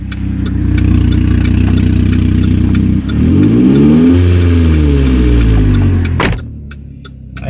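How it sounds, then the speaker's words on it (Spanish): A 2013 Chevrolet Captiva Sport with a loose exhaust pipe idles loudly up close, then revs once and drops back, its engine drone rising and falling before settling into a quieter idle. "Fíjense cómo suena, para que escuchen que está despegado allá abajo."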